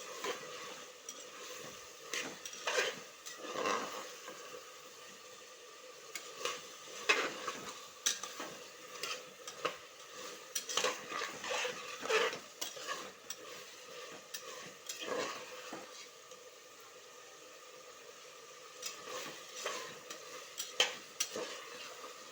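Vegetables sautéed in a pan, a quiet background sizzle with frequent irregular scrapes and clinks of a spoon against the pan, fairly faint and close, without talk.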